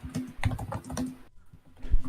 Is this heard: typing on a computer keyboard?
yes